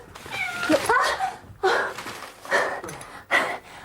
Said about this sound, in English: I didn't know they had a cat.